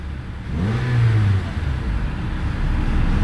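A 2012 Acura TSX Special Edition engine revs up close in one rising, throaty surge, then drops back to a rumbling idle.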